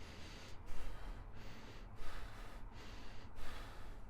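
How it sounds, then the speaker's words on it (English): Shallow chest breathing demonstrated by a person, a series of quick, close, audible inhales and exhales repeating in an uneven rhythm of roughly five breaths, with no speech. "I'm breathing like this."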